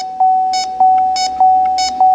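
Four evenly spaced electronic beeps from an R1234YF AC recovery machine during a recover, evacuate and recharge job on a car, each a steady tone with a brief chirp, loud and close with no talk.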